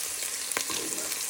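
Pork steaks sizzle in a frying pan, a steady close hiss with a brief scrape as a fish slice moves them.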